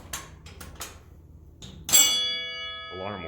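An alarm bell in a vintage Eastern hydraulic freight elevator gives one loud, sharp ring that decays slowly, after a few faint clicks and before a voice speaks.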